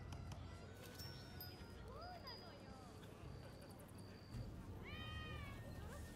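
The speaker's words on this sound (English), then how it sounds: "Cat!" A cat in Rise of the Ronin, in the streets of Edo, gives a couple of rising meows over a busy background hum, with other thin tonal calls drifting through.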